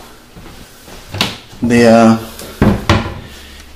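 A wooden cabinet door in an empty, uncleaned house creaks open and knocks shut, a loud close creak followed by a couple of sharp thuds, with a brief spoken word.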